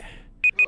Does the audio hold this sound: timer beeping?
yes